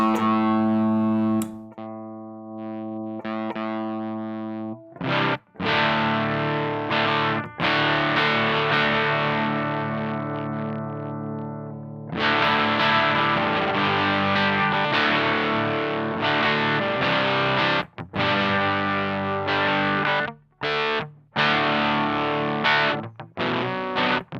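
A heavily distorted electric guitar through a Tym Guitars Black Mud pedal at high gain rings out in sustained chords, broken by brief pauses and choppy bursts, loud and saturated throughout.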